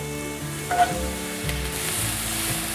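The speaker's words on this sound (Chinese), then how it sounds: "现在放入红喜菇" Red mushrooms go into a wok where celery is already frying in olive oil, and a steady close sizzle sounds over soft background music with a brief louder clatter as they land.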